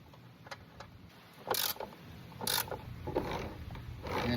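Idler pulley on a Husqvarna HU700H riding mower, freshly fitted with a combined nut and washer, spinning by hand: soft close mechanical whirring and clicking with a few brief louder scrapes, no talk.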